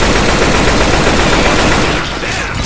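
Sustained loud gunfire in the zombie shooter Left 4 Dead 2, a dense continuous burst of automatic weapon fire with overlapping shots that eases slightly near the end.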